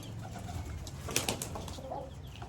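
Pigeons cooing in a backyard enclosure, soft low coos with a brief flutter of wings, faint and fairly close, no talking.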